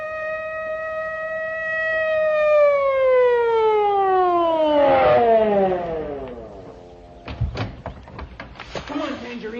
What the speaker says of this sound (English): Here comes a police car.